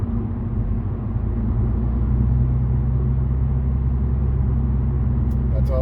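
Steady low exhaust drone from a car with a newly fitted exhaust, heard from inside the cabin while driving, a constant deep rumble with road noise throughout.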